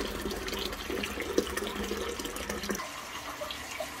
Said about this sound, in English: So I've just tipped the bucket of water on top